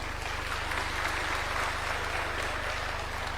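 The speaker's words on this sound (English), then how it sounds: "Another round of applause." A crowd at a political gathering claps after a speech ends, a broad, moderately loud patter of many hands running steadily over a low steady hum.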